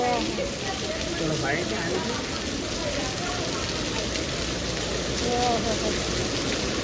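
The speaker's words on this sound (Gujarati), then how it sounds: "જોઈ લે આમ જો ફૂલ વરસાદ છે" Heavy rain pours down in a continuous, dense rush close by, with people talking under the downpour.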